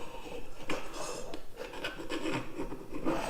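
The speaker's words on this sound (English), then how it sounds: "And that'll just help guide me as I grind." Rasping grinding against a forged steel blade in a knifemaking shop, a continuous rough scraping with uneven strokes and surges, close and fairly quiet, no talking.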